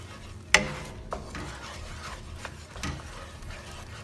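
Onion paste cooks in a pot for a Madras chicken curry while being stirred. Soft rubbing and scraping strokes run throughout, with a sharp knock early on and a few fainter taps after.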